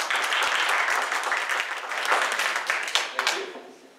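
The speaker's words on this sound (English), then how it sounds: "let's give a round of applause to Dave and Joanne" Audience applauding for Dave and Joanne at a talk on non-violent communication, with steady, fairly close clapping from a modest crowd that continues throughout and tails off at the end.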